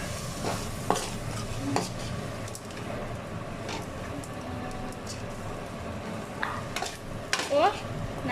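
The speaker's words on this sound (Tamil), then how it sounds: "குழம்புக்கு தேவையான அளவு உப்பு சேர்த்துட்டு ரெண்டு செகண்ட் மட்டும் நல்லா அந்த மசாலாவோட வதக்கி விட்டுக்கலாம்" Fish curry masala with salt being sautéed in a pan, a continuous low sizzle under irregular scraping strokes of a spatula, close and moderately loud with a few sharper clinks.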